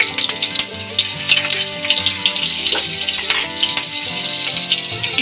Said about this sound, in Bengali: তেল গরম হয়ে গেছে, ফোড়ন দিয়ে দেবো কালো জিরে, কাঁচা লঙ্কা, একটু নাড়িয়ে ভেজে নেব।